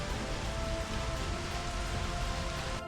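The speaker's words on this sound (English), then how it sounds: "It's pouring." Heavy rain pours down outdoors on a backyard homestead in South Carolina, a steady dense hiss that stays constant and loud throughout, with no voices over it.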